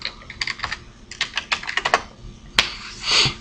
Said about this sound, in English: I'm going to go ahead and type it right here in my address bar.